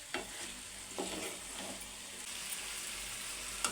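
Fried chicken and onions stirred in a sizzling pan, a steady frying hiss with a few scraping strokes of the spoon, close up and without talk.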